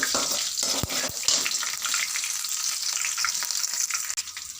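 Dried and green chillies sizzle in hot oil for mango rice, with a steady bright frying hiss and a few sharp clacks of a spoon stirring the pan, close and continuous throughout.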